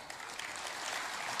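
Audience applause for a housing minister at an Indonesian government event, a short, moderately loud stretch of many people clapping with an even texture, no speech over it.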